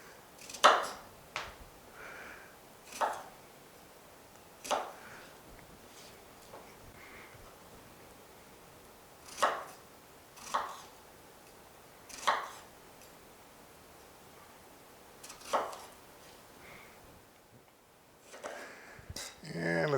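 A knife roughly chopping strawberries on a cutting board, heard as sparse, irregular sharp thuds spaced a second or more apart, faint and close, with quiet rustling between strokes.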